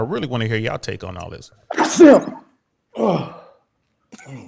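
A single sharp sneeze bursts out mid-conversation, loud and close, after a stretch of speech and before more talking resumes; people chat around it on a panel discussion.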